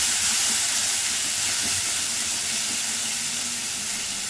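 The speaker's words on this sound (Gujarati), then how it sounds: "ટામેટાની પ્યુરી બનાવી દીધી, એને પણ આપણે સાતળી લઈશું." Tomato puree sautéing in hot oil for a Gujarati papdi muthiya curry, giving a steady, close sizzling hiss that holds evenly throughout with no voices.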